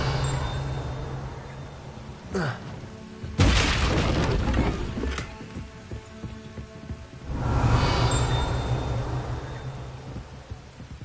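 Revelio spell cast in Hogwarts Legacy near Feldcroft: a sharp hit, then a loud, broad magical surge lasting about two seconds, and a later swelling pulse, all over steady low game ambience.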